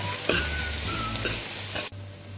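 Spice masala of turmeric, pepper powder and garam masala sizzles in a pan for a Kerala crab roast while being stirred, a close steady frying hiss with scraping strokes that cuts off abruptly near the end.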